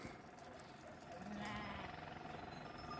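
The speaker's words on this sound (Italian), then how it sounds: "Senti, un abbelato. Ciao pecorelle." Sheep penned in an enclosure bleat outdoors, with faint, indistinct calls under a steady wash of background noise and one brief tonal bleat rising in the middle.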